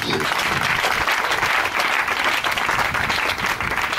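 A church congregation applauds in sustained, dense clapping that stays steady and loud throughout, with a faint voice underneath.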